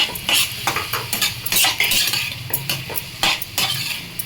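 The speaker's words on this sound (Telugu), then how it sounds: "ఇలాగా మనం దీన్ని ఫ్రై చేసుకోవాలండి." A spatula scrapes and clatters against a pan as brinjal chutney fries on a gas stove, with quick irregular metallic stirring strokes over a soft low sizzle, close and loud.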